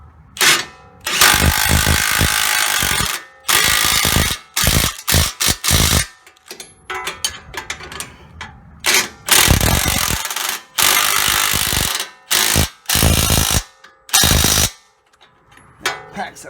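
A power tool tightens front strut bolts on a 2010 Camaro in loud, close bursts of whirring and rattling impacts, several short runs separated by brief pauses.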